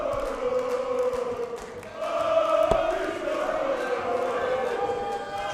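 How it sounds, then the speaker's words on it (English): Crowd at the Dutch Open darts tournament chanting for a player in a steady, rhythmic drone of massed voices, swelling louder midway and carrying on continuously from the hall. "make out from the crowd which player they're chanting for there"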